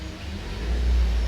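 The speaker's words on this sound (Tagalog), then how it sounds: "Start muna natin para makita nyo. Yan na. Tining na ng makina." A Ford Fiesta engine idling steadily at low rpm, a close, continuous rumble that swells slightly louder partway through, with no talking.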